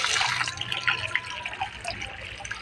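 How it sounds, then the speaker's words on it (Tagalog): Calamansi washed by hand in water, with close splashing, dripping and sloshing that rises and falls in short irregular bursts. "Kailangan hugasan natin siya na maigi"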